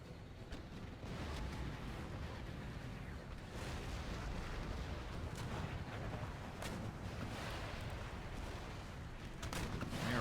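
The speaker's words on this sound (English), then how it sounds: "now we're taking return fire" Battle in Empire Total War with Darthmod: a dense, continuous roar of artillery and massed musket fire, with frequent overlapping booms and crackles at a steady, moderate level.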